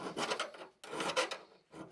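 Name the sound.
filing a hedge trimmer blade with a hand file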